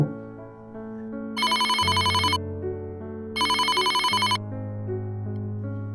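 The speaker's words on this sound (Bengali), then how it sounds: "সুগতকে একটি ফোন করলাম" A telephone rings in two bursts of rapid electronic trilling, each about a second long, over a steady background of soft music.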